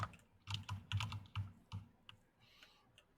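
Keys on a computer keyboard are struck in quick, uneven bursts of clicks that are close but quiet, then thin out to a few scattered taps near the end.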